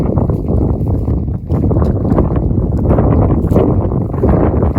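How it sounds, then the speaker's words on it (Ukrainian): Wind blows across an open farm field of winter wheat, buffeting the microphone in a loud, continuous low rumble that rises and falls slightly. "Вітерець піднявся."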